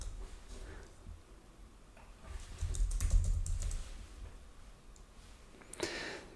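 Keys on a computer keyboard are typed in short clusters of soft, quick clicks, close and fairly quiet, while entering data into track design software.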